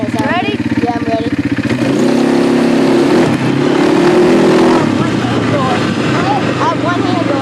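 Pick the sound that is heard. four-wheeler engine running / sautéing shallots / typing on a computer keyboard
four-wheeler engine running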